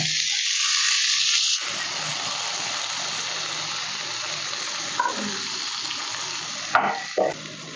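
Steady loud sizzling of tomato frying in a hot pan for drumstick leaf soup, with a few brief clatters of stirring near the end.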